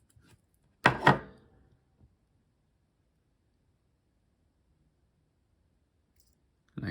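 A knife cuts into a Rotring Variograph refillable fibre-tip pen, giving one short crisp cluster of cracking clicks, followed by near silence and then a faint click at the end.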